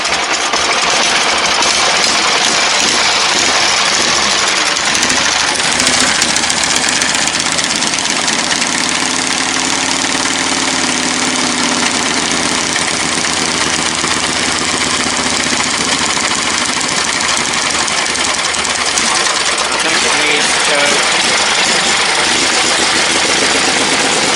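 An old engine idles off choke after sitting unused for about a year, a loud, steady, rough mechanical drone with some knocking vibration running unbroken the whole time.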